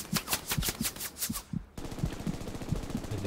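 Rapid bursts of automatic gunfire from the World War II shooter game Hell Let Loose, a fast rhythmic string of shots, a short pause, then another dense volley, loud and close.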